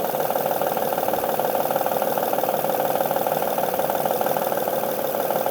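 A Honda Odyssey engine idling with a faulty timing belt tensioner, a steady, fast ticking clatter over a dense mechanical hum, close and continuous.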